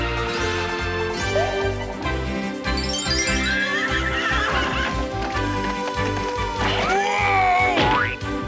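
A horse whinnies loudly and repeatedly over music in a cartoon scene, with clip-clopping hooves and springy boing effects mixed in, and no voices.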